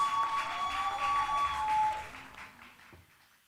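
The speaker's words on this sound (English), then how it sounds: "Let's give Toby a round of applause as she returns to her set" Audience applause at a business and career expo as a participant returns to her seat, a steady wash of clapping that fades out toward the end, with a faint tone sounding over it.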